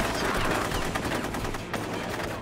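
Sustained automatic gunfire in the video game Rogue Warrior, a loud, dense rattle of rapid shots without a break, with no talking over it.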